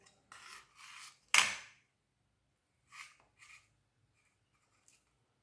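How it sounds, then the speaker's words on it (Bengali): A metal spatula cuts through a tray of semolina sweet in a few quick scraping strokes, then two softer scrapes and a faint tap, close by and otherwise quiet. "আমি খুন্তির সাহায্যে কাটছি।"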